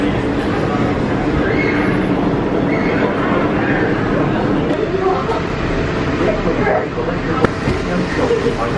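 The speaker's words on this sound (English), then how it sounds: "Feet and legs inside while the tram is moving." A tram at Walt Disney World's Magic Kingdom rumbles along steadily with a low, continuous rolling noise, faint clicks and metallic squeals rising over the drone.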